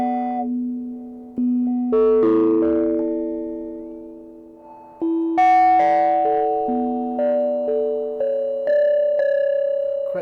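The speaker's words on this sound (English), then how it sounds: "create some sort of nice sort of bell tone, like chip tune side of tones" Bright chiptune-style bell tones from a Roland System-8 synthesizer play a slow stepped sequence of notes, each ringing out and fading before the next, loud with no voices.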